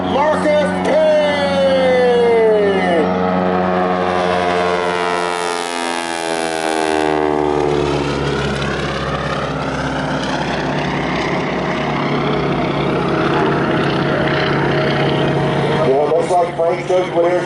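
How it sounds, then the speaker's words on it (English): A Super Stearman biplane with a big constant-speed propeller roars past at an air show, its loud droning buzz sweeping down in pitch as it passes, heavy and continuous, with an announcer talking over it. "he's got that big constant speed prop that you hear making all that racket as the propeller tips go supersonic"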